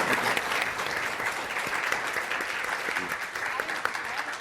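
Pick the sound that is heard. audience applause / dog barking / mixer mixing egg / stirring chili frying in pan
audience applause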